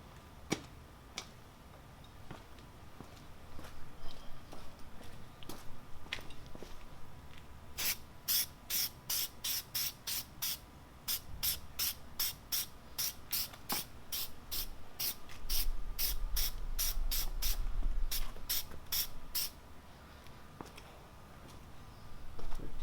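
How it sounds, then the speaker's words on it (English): Repeated short bursts of aerosol headlight coating spray hiss in quick rhythmic pulses, close by, on a 2012 Chevy Cruze headlight, with a low rumble of background noise partway through. "Now we're going to spray."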